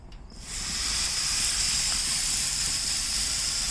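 A loud, steady sizzle starts up suddenly as meat hits a hot grill, then holds as a bright continuous hiss.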